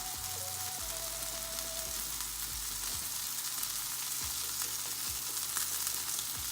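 Steady, close sizzle of butter pats melting on a hot pan of keto turkey dinner, with soft scraping of a utensil now and then under a constant low hum, no voices.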